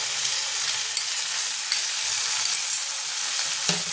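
Onion, garlic, ginger and chilli pastes hit fried onions in a pan for a Bengali prawn dhoka curry, giving a loud, steady, bright sizzle with a few small clicks and one utensil knock near the end.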